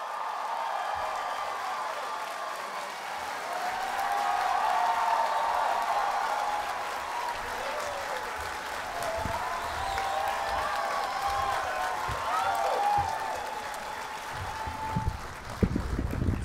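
Sustained audience applause at the 2008 San Diego Comic-Con welcoming the creators and cast of Mystery Science Theater 3000, a dense wash of clapping from a large crowd with scattered cheers, rising and holding for several seconds before easing off.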